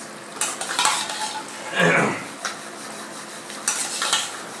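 Cubes of paneer go into a simmering butter masala gravy, with a spoon scraping and stirring the pot in bursts, soft bubbling underneath, and one clear splashy plop as the pieces drop in.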